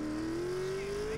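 FCR-900 motorcycle in the GTA: San Andreas video game, its engine revving in one brief, loud, rising tone with no one talking.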